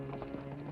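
Hooves of a riderless horse clip-clop in a deserted barn in the Old West, a steady, moderately close plodding beneath a constant low musical hum.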